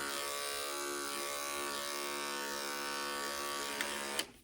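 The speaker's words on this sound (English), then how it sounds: "I don't push down all the way with the clippers." Electric clippers trimming a Havanese dog's fur: a steady close-up motor buzz runs continuously with slight changes in tone, ending in a couple of brief bumps as the blade shifts.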